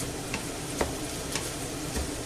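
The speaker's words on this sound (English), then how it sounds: "we'll give this a nice mix about so that it soaks in the rice" Seafood paella mixed in its pan so the juices soak into the rice, a soft wet bubbling hiss with a few light scrapes of the utensil, close and quiet.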